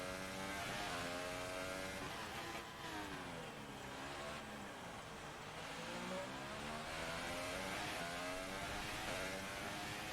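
A Formula One car's engine whines at high revs under cornering in the F1 2018 racing game, the pitch sweeping down then climbing back as it drops into sixth gear, loud and continuous with tire noise.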